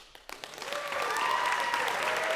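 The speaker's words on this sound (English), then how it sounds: "I only like 10 or 15 seconds of applause at the end of a CD or the final fade out" Recorded concert applause at the end of a CD, a dense wash of clapping that swells from quiet to a steady, full crowd sound, with a sustained tone running underneath.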